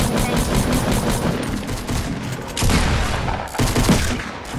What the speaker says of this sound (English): Look, I hit him with all my bullets right there.